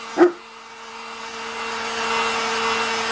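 A single deep bark from an English Mastiff rings out near the start, followed by a steady whooshing blower-like noise that builds and continues.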